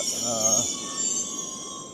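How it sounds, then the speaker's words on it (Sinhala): A train departing a station in South Korea between Busan and Daegu rumbles steadily with a thin high metallic squeal and a low hum, continuous and fairly loud, a voice briefly audible underneath. "දැන් මේ කෝච්චිය පිටත් වෙනවා."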